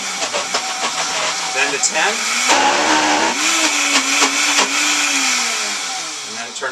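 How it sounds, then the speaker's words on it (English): A Vitamix blender grinds raw cashews into nut butter, a loud, strained motor whine whose pitch rises and dips as the speed changes. A person talks briefly over it. "Turn it up to about 5, and then slowly blend it."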